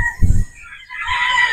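Pure Boston Roundhead brood stags on a game farm, a loud close crow with a brief clucking burst at the start, no voices.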